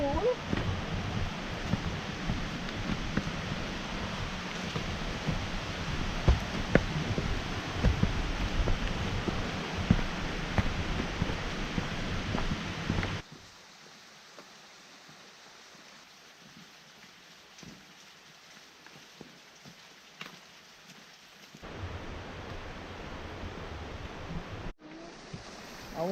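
Rushing water of a mountain stream on the trail from Burrell's Ford toward Ellicott Rock, a loud steady broadband roar for about thirteen seconds, then dropping away to quiet with a brief rise near the end.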